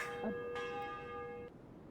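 A single bell rung to call a council meeting in a fantasy role-play game, a clear sustained metallic tone with ringing overtones that hangs for about a second and a half before cutting off, moderately near.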